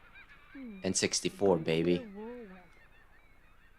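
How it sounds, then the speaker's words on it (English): A seagull in the Nintendo 64 game Mega Man 64 gives a short burst of honking cries, loud and close, while someone talks quietly around it. "did you see that seagull?"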